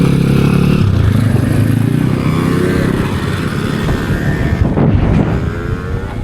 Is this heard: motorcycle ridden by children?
yes